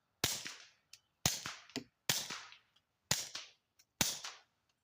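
Suppressed gunshots through a Silencerco Sparrow SS suppressor at an outdoor range: five sharp, evenly spaced cracks about a second apart, each trailing off in a short echo, with a faint clink after several.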